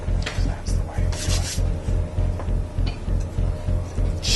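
Chisel scraping and rasping at a hot mold, a steady rough rubbing that pulses in short strokes, close and fairly loud.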